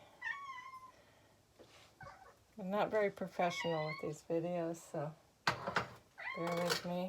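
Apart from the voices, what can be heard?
cat meowing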